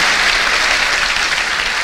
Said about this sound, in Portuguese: Aplausos ao Senhor.